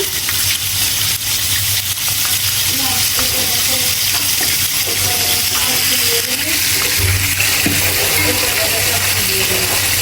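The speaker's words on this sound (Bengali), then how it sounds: "তো প্রথমে আমি পেঁয়াজটা দিয়ে দিলাম" Onion frying in a pan as the base for a dried fish curry, a loud, constant sizzle with occasional stirring scrapes, heard up close and alone.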